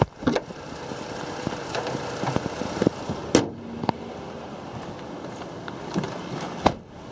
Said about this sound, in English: As you see, the engine is running.